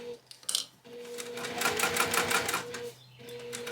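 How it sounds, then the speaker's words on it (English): A sewing machine runs a back stitch on a card pouch, its rapid even needle chatter steady and close for a couple of seconds, with brief pauses and a hum before and after. "I'm going to do a back stitch here."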